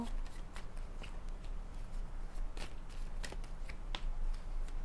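Tarot cards shuffled by hand at close range, a quick series of crisp riffling flicks and papery slaps repeating throughout over a quiet room background.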